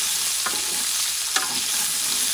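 Green beans being stirred in a paella pan with a steady sizzle of frying underneath, a couple of brief scraping strokes standing out, no talking.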